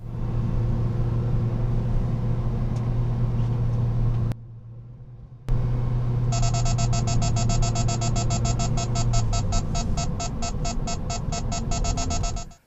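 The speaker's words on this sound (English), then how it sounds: "suddenly it started alerting me to that Acura SUV with the BSM false ahead" An Escort Redline EX radar detector sounds a rapid, repeating electronic beeping alert, triggered falsely by an Acura SUV's blind-spot monitor, loud over the low hum of a moving car's cabin.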